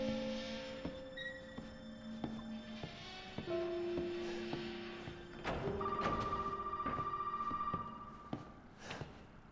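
Phones ring repeatedly inside a house in the horror game Resident Evil 7, steady electronic ring tones recurring over about ten seconds among scattered thumps and knocks, with no talk over them.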